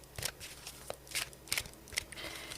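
Tarot cards shuffled by hand in quick, uneven bursts of riffling and slapping, close and moderately loud, with short pauses between the shuffles and no talk over them.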